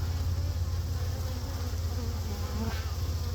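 A swarm of honeybees being rescued fills the air with a dense, continuous buzzing drone, loud and close, steady for the whole stretch.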